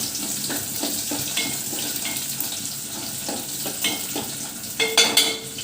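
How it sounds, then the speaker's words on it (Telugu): Onions fry in hot oil in a pan, giving a continuous crackling sizzle with repeated spatula taps and scrapes that grow louder and busier near the end, heard alone without speech. "నూనె వేడెక్కింది ఫ్రెండ్స్. ఆనియన్స్ వేసేసుకున్నాం ఫ్రెండ్స్."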